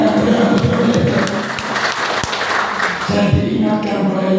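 A church congregation applauds together, a dense continuous wash of clapping that holds steady for several seconds and then thins out slightly near the end.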